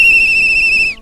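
A person whistles a single steady, sustained high note at close range, loud and clear for about a second before cutting off, at an outdoor demonstration.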